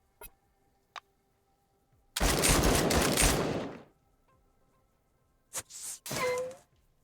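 Two isolated sharp cracks, then a long roaring burst of rapid gunfire aimed at turrets in the game Encased, followed by a few shorter clattering blasts and a faint ringing tone.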